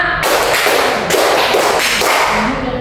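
A group of colleagues at a coding and AI training session clap together in a counted rhythm, loud bursts of hand claps arriving in quick clustered rounds with almost no pause between them.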